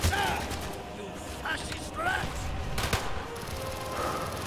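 Rapid automatic gunfire with explosions in the video game Call of Duty Black Ops, loud bursts over a busy battle, with a voice talking through it.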